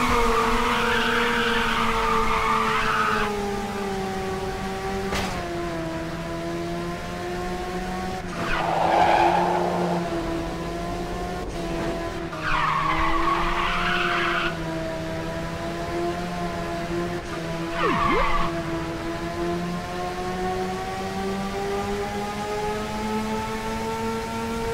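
Repeated tire squeals from a car skidding through corners in Ridge Racer 6, four drawn-out bursts of screeching over a steady, droning engine.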